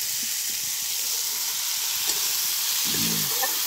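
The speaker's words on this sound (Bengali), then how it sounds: "এই যে ছোট বাইলে মাছ ভাজি" Small baim fish frying in a pan, a steady hissing sizzle close by with faint stirring scrapes and a brief clatter near the end.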